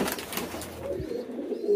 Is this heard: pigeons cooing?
yes